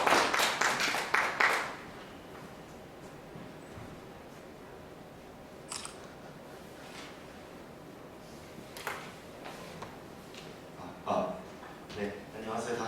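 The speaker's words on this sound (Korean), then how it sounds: "예, 박수로 환영해 주시겠습니다." Brief burst of audience applause welcoming a speaker at a seminar, loud for the first two seconds, then fading into a quiet room with scattered handling noises and a few faint clicks.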